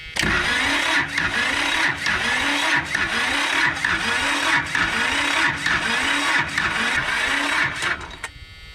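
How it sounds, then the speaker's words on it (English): A diesel golf course mower engine cranks over repeatedly to purge air from its fuel system, giving a loud, rhythmic chugging of starter turns at an even pace without catching. "So we're still trying to crank this thing over to get some air out of the fuel system."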